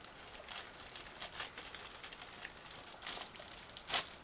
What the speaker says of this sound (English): Next we go on with another plastic bag.